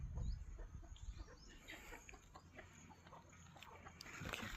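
Aseel chickens and a rooster on a farm, soft scattered clucks and faint bird calls in the open air, with low rustling and handling noise throughout.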